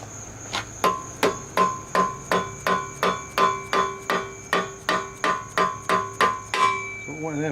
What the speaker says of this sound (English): Now I'll try and drive it in with a rubber mallet hammer.